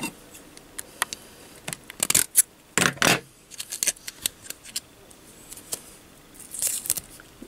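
Scissors snip a Vandy Vape mesh coil strip to width, a series of sharp, close metallic cuts in irregular bursts, some loud and some faint, with small handling rustles between them and no talking.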